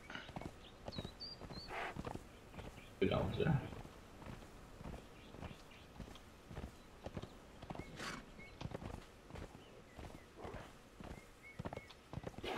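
A horse's hooves clip-clop at a walking pace in World of Warcraft, a steady series of light taps with occasional louder thumps, while someone speaks Norwegian over it.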